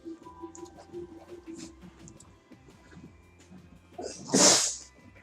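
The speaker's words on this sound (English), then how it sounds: "Fruit Loops making me get ready to sneeze." A single loud, close sneeze bursts out near the end, after quiet background sound from a game playing at a desk.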